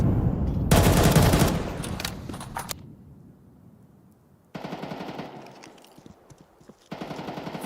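Bursts of SMG fire in a Counter-Strike match crackle loudly in rapid automatic strings, separated by a quiet gap, with further shorter volleys following later.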